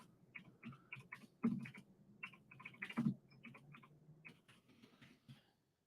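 Rapid bursts of typing on a computer keyboard, uneven clusters of close key clicks with a few louder strikes, heard alone without speech.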